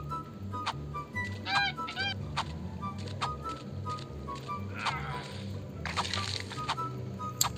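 Dodo birds in the survival game Ark Survival Mobile, giving short honking, clucking calls in scattered bursts over a low rumbling game ambience, with faint crackles near the end.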